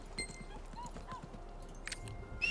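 Horse hooves clip-clop in a steady trotting rhythm during a horse ride in the video game Lost Ark, with faint jingling and ambient game sounds around them.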